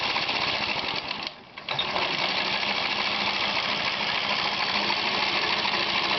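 A compressed-air-powered go-kart engine runs with a steady, rapid mechanical chatter, close and loud, dipping briefly as it is throttled down before resuming its continuous clatter.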